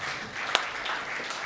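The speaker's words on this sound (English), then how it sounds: "On this note, hand of applause for this man," Conference audience applauding a speaker, a brief wash of clapping from many hands in a hall with one sharper clap near the middle, no voices heard.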